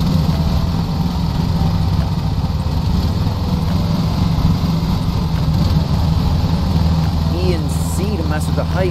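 Riding lawn mower engine in Lawn Mowing Simulator, loud and continuous with a steady low rumble and throttle shifts, while someone speaks over it.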